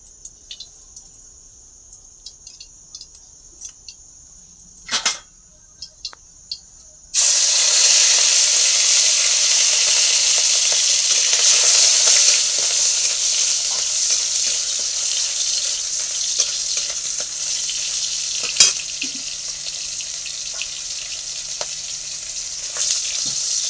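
Rohu fish fries in hot oil: after a few quiet seconds with a brief clatter, a loud, dense hiss of sizzling bursts in and continues steadily, close and prominent.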